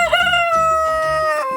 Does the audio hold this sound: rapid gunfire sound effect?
no